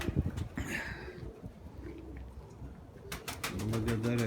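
Pigeons coo softly in a loft, low throaty calls close by amid rustling and splashing, with faint human voice sounds mixed in.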